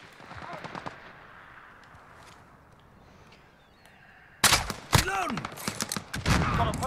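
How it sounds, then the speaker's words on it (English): Explosive crossbow bolt from a Barnett Headhunter in the video game Call of Duty Modern Warfare: quiet game sounds give way to a sudden sharp blast and a burst of gunfire and crackling reports, loud and close. "So that didn't kill him right away, but we got the explosion."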